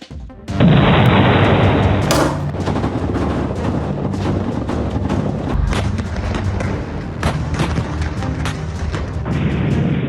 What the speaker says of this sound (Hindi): एयर स्ट्राइक से आईडीएफ का दूसरा हमला, मिट्टी में हमास का आतंकी ठिकाना।